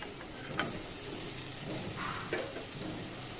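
Eggs hit spiced oil in a pan and fry with a steady, close crackling sizzle, broken by a few brief clinks of stirring; no one speaks.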